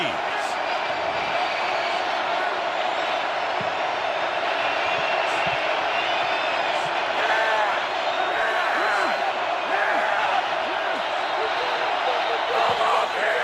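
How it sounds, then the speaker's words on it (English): A roaring stadium crowd at an NFL game, 49ers visiting the Seahawks in Seattle, on a third-and-3 play: a dense, continuous, loud wall of crowd noise that holds steady for the whole stretch, with faint scattered shouts inside it. "That may be the loudest we've heard the crowd all game"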